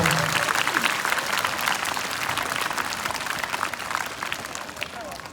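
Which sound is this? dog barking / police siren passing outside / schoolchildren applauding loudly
schoolchildren applauding loudly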